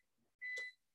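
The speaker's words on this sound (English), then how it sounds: "Yes, it was the microwave." A microwave oven set to defrost gives a single short electronic beep, a clear tonal chirp lasting about a quarter second in an otherwise quiet room, with faint murmur before it.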